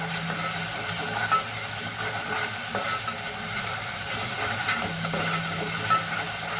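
Chicken curry simmering in a pan after water is added, with a continuous bubbling sizzle and steady stirring scrapes throughout, a few soft clinks of the spoon against the pan; no voices.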